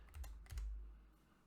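Keys clatter on a computer keyboard in two quick bursts of close typing as a name is entered into an app, then the sound fades to quiet.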